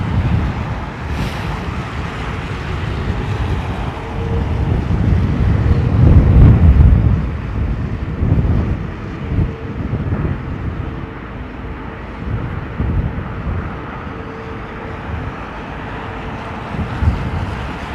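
A large airliner lands at London Heathrow in strong wind, its deep engine roar swelling in the middle and then fading away, heavily buffeted by wind noise on the microphone throughout.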